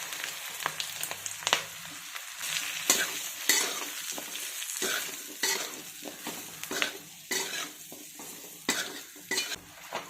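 Mustard seeds, cumin, curry leaves and a mixed chilli blend hit hot oil in a kadhai for a Bhavnagari chilli dry sabzi, crackling and sizzling up close with repeated sharp pops and the scrape of a stirring spoon against the pan.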